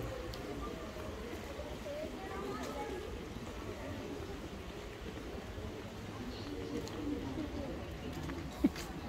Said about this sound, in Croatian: Golub ludi. Skoro sam stao na njega.